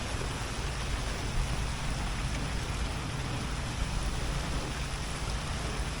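Steady heavy rain falls outside, a dense continuous hiss and patter with no pauses, loud and even throughout with no voices.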